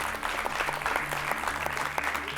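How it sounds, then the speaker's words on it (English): Studio audience applause at a Sri Lankan school quiz show between Royal College Colombo and Nalanda College, a steady dense patter of many hands clapping close by, with a low hum underneath. "let's have a round of applause for Royal College"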